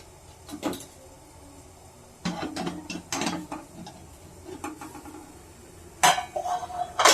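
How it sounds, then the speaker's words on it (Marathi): Metallic clanks and scraping of a pressure cooker lid being handled and opened in a home kitchen after cooking sabudana vada, a few separate clattering bursts with a final louder hiss-like rattle near the end. "मिनिटं उघडते मी आता कुकर"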